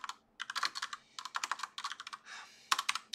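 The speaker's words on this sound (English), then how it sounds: "I'll just go ahead and type in sitemap." Quick bursts of keystrokes on a computer keyboard, close and fairly quiet, come in short clattering runs separated by brief pauses, with no talking.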